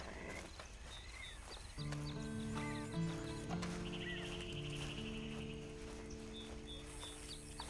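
Horse hooves clop steadily with a whinny in Red Dead Online, set against a sustained musical drone and ambient chirps; no one speaks.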